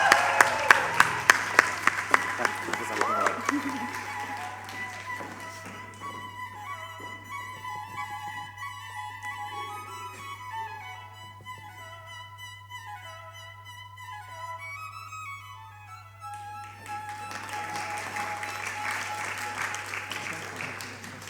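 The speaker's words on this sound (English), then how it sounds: "let's give our postgraduate students a big round of applause" Audience applause at a graduation ceremony: a few distinct claps open into fuller clapping that fades under a stretch of tonal ceremonial music, then a second wave of crowd applause swells near the end.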